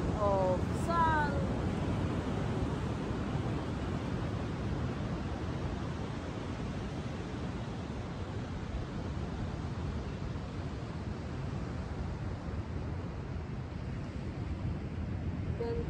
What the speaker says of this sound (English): You can enjoy here the ocean sound, enjoy the ray of sun.